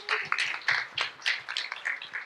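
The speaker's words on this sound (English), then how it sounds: "Round of applause for them." A round of applause from a festival audience, with dense irregular clapping swelling and easing across the whole stretch, close and fairly loud with no voices over it.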